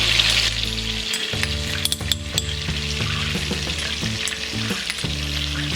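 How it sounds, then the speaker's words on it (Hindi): Cumin seeds crackle and sizzle in hot butter and oil on a tava for Mumbai-style pulao, a steady close frying hiss dotted with sharp pops and clicks, alongside a low, sustained tonal hum throughout, with no talking. "जीरा क्रैकल होने के बाद हम डालेंगे ये अनियन"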